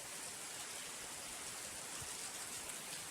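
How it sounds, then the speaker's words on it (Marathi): Heavy rain falling outside a house during a sudden Konkan downpour, a steady broadband hiss of dense drops that stays unchanged throughout, faint and distant with no voices. "अजून पण पाऊस चिक्कार पडतो"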